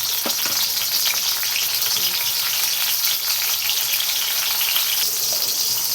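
Tomato frying in a kadhai for a Marathi-style brinjal curry, a loud, dense and continuous sizzle that holds steady from start to finish, with faint utensil touches near the beginning and no talking.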